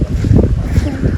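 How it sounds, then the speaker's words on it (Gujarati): Strong wind buffets the microphone in a dense, low rumbling roar that surges and dips throughout, loud and close, during a sudden rainstorm. "પવન તો ફૂલ પવન છે."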